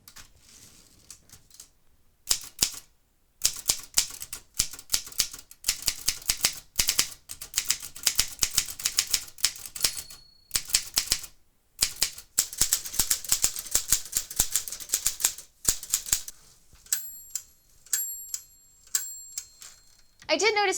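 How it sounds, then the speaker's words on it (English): Typing test on two freshly cleaned vintage typewriters, one a Clipper: rapid bursts of clacking keystrokes with brief pauses, close and fairly loud, ending with carriage-return bell dings and a ratcheting return. "I did do a type test of both of these typewriters after I cleaned them"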